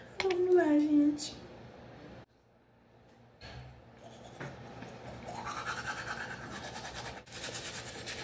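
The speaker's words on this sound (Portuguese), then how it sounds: "agora depois que eu jantei, vou escovar os meus dentes" Someone brushes their teeth with a toothbrush in an evening routine after dinner, a steady close scrubbing rasp swelling toward the end, with a brief voice-like tone and a quiet pause near the start.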